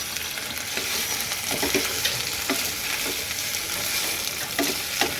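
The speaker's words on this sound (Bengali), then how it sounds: "সুন্দর করে একটু নাড়িয়ে দেবো" Vegetable curry of potato, pointed gourd and cauliflower fries in a pan while being stirred, a steady hiss of sizzling oil broken by scattered scraping and clicking strokes of the spoon, with no talking.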